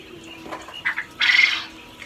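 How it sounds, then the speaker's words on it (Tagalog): Farm-raised quails call during feeding time, giving a few brief squawks and chirps, the loudest near the middle, over a quiet background. "ipapakita namin sa inyo naman ang pagpapakain namin sa aming mga alagang pugo."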